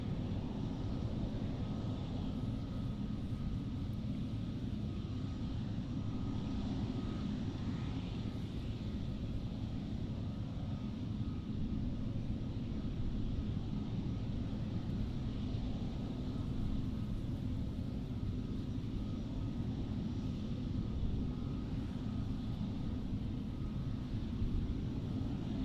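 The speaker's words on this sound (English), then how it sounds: "We also have a special livery Transavia 737, which is taxiing up to the Polderbaan as we speak." A Transavia Boeing 737 in special livery taxis toward the Polderbaan runway at Amsterdam airport, its engines a steady, broad low rumble that holds at constant loudness throughout without talk.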